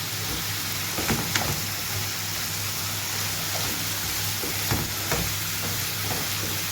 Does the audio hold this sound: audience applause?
no